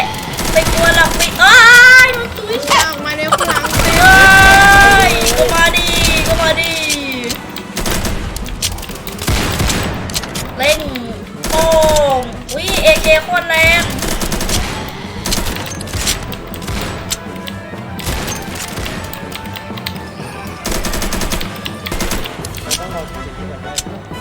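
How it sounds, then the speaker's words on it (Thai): Rapid gunfire from shooting zombies in the Roblox game Zombie Uprising, loud bursts of automatic fire and scattered shots filling the mix, with someone talking excitedly over it. "กำลังยิงซอมบี้ใช่ครับ"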